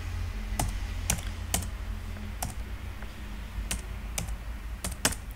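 Computer keyboard typing while Python code is written, with irregular, sharp key clicks scattered over about five seconds against a steady low hum, close and clear, with no talking.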